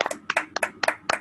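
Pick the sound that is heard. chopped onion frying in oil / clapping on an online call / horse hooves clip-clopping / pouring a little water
clapping on an online call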